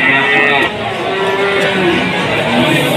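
Cattle at a cattle market in Tuban, with Simmental and Limousin calves, mooing loudly and close in one long sustained call over a busy background.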